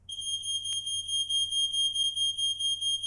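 A shrill, steady electronic alarm tone beeps in a continuous pulsing pattern, loud and piercing with no voices.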